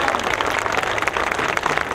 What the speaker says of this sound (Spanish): Y eso merece un fuerte aplauso a nuestro amigo Manuel Granados